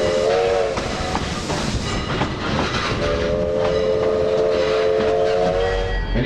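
A train whistle sounds twice, a short blast and then a longer steady one, over the loud rumble and clatter of a moving train.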